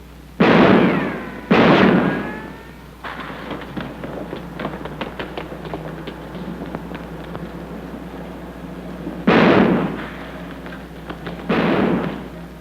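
Gunshots in a 1947 film, a few loud sharp bangs in two pairs with ringing tails, separated by a quieter stretch of scattered taps and background noise.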